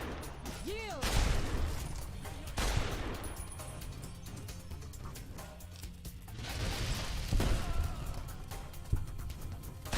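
Hip-fired gun shots from a Fallout video game, a few loud bursts of gunfire spread across the stretch with game sounds and noise in between.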